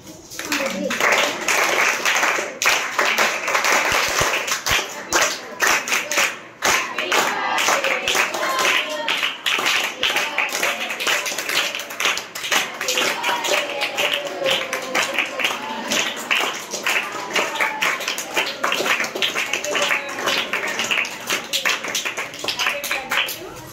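Government school students in a motivation class clap together in a repeated group pattern, sharp overlapping claps coming in bursts over a long stretch, with voices mixed in among them.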